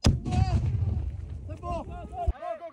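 A grenade blast during a Swiss military drill booms at the start and rumbles on, with a second sharp thud later while voices shout nearby.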